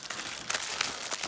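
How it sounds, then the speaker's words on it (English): Pokémon card packs shuffled by hand, a soft continuous crinkly rustle of foil wrappers with a few sharper crackles, close and moderately quiet. "Shuffle them up."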